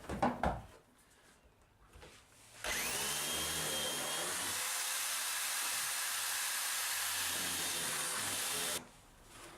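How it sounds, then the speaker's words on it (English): A power drill runs steadily for about six seconds to bore out screw heads during a wooden boat restoration, loud and continuous, with a short knock and handling sounds before it starts. "I've got to drill out the screw heads, I think,"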